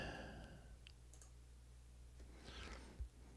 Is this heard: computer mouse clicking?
yes